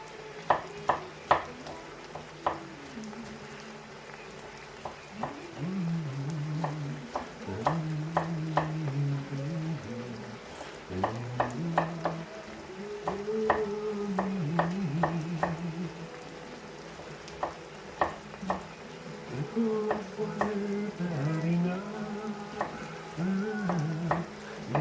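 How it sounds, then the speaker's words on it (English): Chopped onion frying in a pan for Samoan sapasui, a steady sizzle running throughout, broken by frequent sharp clinks and scrapes of a utensil stirring against the pan, with no talking. "So let the onion fry off"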